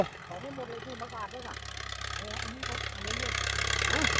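A small walking tractor engine idles with a steady low chugging throb, while people talk over it nearby.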